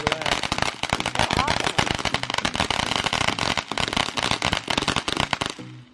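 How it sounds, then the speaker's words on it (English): Fourth of July fireworks and firecrackers in Florida crackle and pop in dense, rapid bursts, loud and close, with a voice briefly audible among them before the noise fades out. "Maddie, your fireworks."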